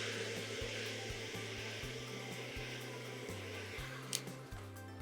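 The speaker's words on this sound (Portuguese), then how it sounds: "Aí aqui vem com o secador novamente" A hair dryer blows steadily at close range in a hair salon during hair colouring, a continuous loud whir with a rhythmic low pulsing throughout.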